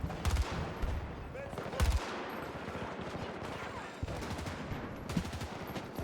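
Gunfire in Battlefield 2042, sharp close bursts of automatic fire with heavy thumps, interspersed with background battle noise and some voices talking.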